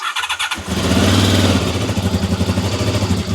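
Honda motorcycle engine running roughly with choke, catching and then sputtering in an uneven, pulsing rhythm, loud and close with no talk.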